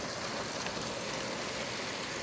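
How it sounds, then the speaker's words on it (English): Rain falls outside an open window, a steady soft hiss of drops with no other sounds over it. "It's raining."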